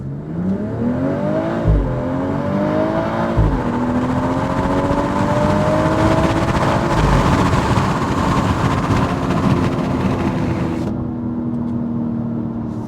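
A 2023 BMW X3 M40i in Sport Plus pulls away hard from a stop, its engine note climbing through rapid upshifts with brief dips at each change, then settling into a steady loud drone with road noise, heard from inside the cabin.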